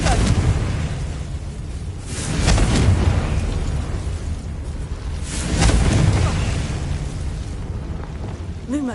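Confringo blasting spell cast in a wizarding video game, two loud booming explosions a few seconds apart over a continuous roaring background, each burst swelling and fading, no talk.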